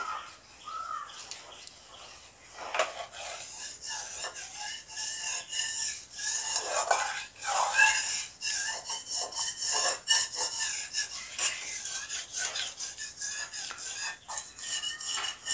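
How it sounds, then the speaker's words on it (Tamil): A spoon scraping and rubbing across the bottom of a pan while one litre of cow's milk is stirred down for homemade milk powder, giving irregular close scraping strokes that keep going steadily. "நல்லா அடி பிடிக்காமல் கிளறி விட்டுக்கினே இருக்கணும்"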